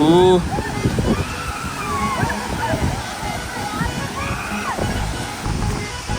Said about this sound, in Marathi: आता हा बावली वॉटरफॉल हा तो डॅम आणि हा तो वॉटरफॉल